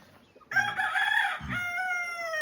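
A Pekmez rooster crows loudly and close by, one long strained cock-a-doodle-doo with a bright, ringing tone that holds to the end.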